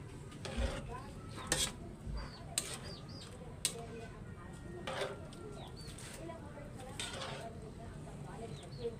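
Celery being stirred in a cooking pot for atsarang papaya, soft scraping and clinking of a utensil against the pot in scattered strokes, faint and close, with birds chirping in the background.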